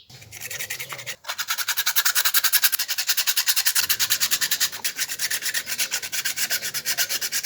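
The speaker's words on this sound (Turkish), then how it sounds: "Görmüş olduğunuz gibi zımparalama işlemim tamamlandı." Rhythmic abrasive rubbing of sanding on a car horn part during repair, steady back-and-forth strokes close up, with a brief pause near the start, no voices.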